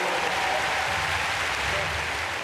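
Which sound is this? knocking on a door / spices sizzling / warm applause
warm applause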